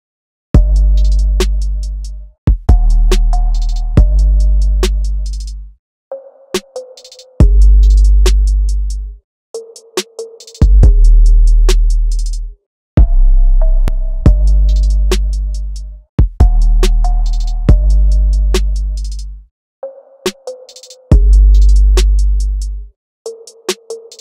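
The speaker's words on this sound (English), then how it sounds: "So here I have a pretty straightforward drum pattern that I've sequenced out." Sequenced drum pattern built on booming 808 bass hits with sharp percussion, looping in clear bars, heard both with and without EQ filtering applied; loud, punchy and alone with no talking.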